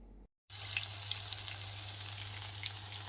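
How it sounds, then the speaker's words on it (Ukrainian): Syrnyky (cottage cheese pancakes) fry in a pan with a steady, close, even sizzle heard alone after a brief cut of silence at the start. "Я просто швиденько посмажу звичайні сирники, зараз вам покажу."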